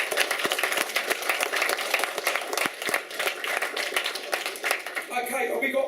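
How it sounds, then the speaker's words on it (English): An audience at a mixed martial arts press conference bursts into dense, steady applause and clapping that stays loud and continuous throughout, with a voice speaking over it. "Big round of applause to them two guys."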